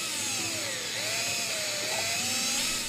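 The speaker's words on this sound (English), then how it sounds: "We had to drill out the rivets and pull a couple parts off" A power drill bores out rivets on the fuselage of an EXP-119 kit aircraft, a loud continuous high whine that dips and rises in pitch as the bit works through the metal, with no talk.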